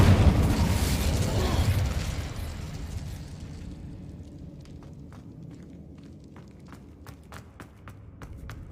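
Incendio fire spell cast in Hogwarts Legacy: a loud, broad whooshing burst of flame that fades over a few seconds into a quieter ambient bed with scattered faint clicks.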